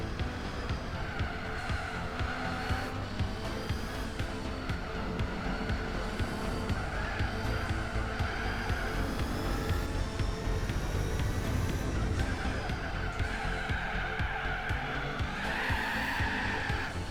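A Lancia sliding through corners in Gran Turismo 4, its tires squealing and skidding almost continuously over a loud, revving race-car engine, with pitch rising and falling as it drifts.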